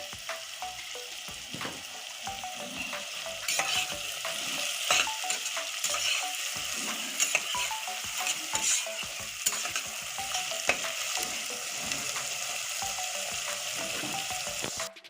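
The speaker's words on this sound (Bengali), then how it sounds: "এবার দেখুন পেঁয়াজটা আমি লাল করে ভেজে নিয়েছি" Onions fry with salt until browned, a dense steady sizzle with frequent spatula scrapes and stirring clatter, close and fairly loud, with no voices.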